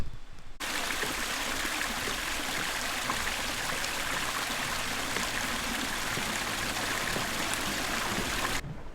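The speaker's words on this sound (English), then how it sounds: "it looks like that's coming right out of a spring, which is awesome." Spring water flows beside a mountain trail on Bisulsan in Korea, a close, steady babbling trickle that carries on evenly with no voices.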